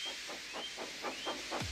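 Rhythmic steam engine puffs chuff in a steady beat, about five quick bursts of hissing exhaust, fairly faint.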